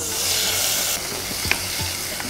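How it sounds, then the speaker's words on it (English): Tomatoes dropped into hot ghee in a pan, a loud hiss that eases after the first second into a steady sizzle, with a couple of light utensil clinks and knocks. "I'm going to add a little more ghee and I'll dunk in the tomatoes."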